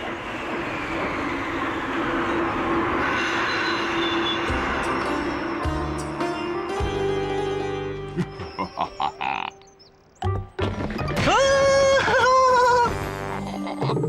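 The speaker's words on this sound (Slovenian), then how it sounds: "Na drugi peron prihaja ekspresni vlak iz Blatne Globeli." An express train pulls in at a station platform in a cartoon, its low rumble and rolling clatter building under croaking frog-like tones, then breaking into loud hissing brake squeals and whistle-like tones near the end.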